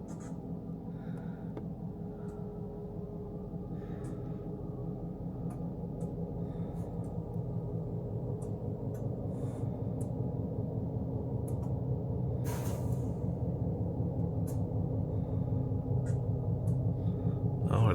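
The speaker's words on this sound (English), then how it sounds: "there's a locomotive" A locomotive at an auto train station produces a low, steady engine rumble that grows gradually louder as it approaches, with faint scattered clicks and a brief higher burst partway through.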